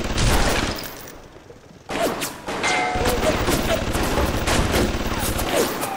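Gunfire in BioShock on hard difficulty, a burst of rapid shots mixed with crashing game sounds, loud and dense across the whole stretch with a brief lull near the middle.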